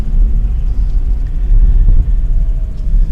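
A car driving along an ordinary road makes a loud, steady low engine rumble with road and tyre noise inside the cabin, continuous throughout, with no talking.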